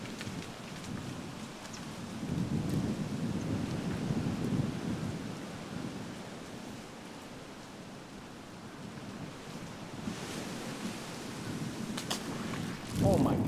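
Soft, steady rain patter fills the background with low rumbling beneath, fairly faint and constant, with a brief louder swell near the end.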